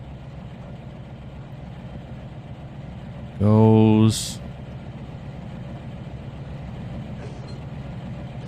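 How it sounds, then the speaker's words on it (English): Truck engine in the Trainz 2019 railway simulation game, a steady idling rumble with a brief loud horn-like blast in the middle, the engine sound uneven and cutting in and out; a voice speaks briefly. "the truck sounds are really cutting in and out now"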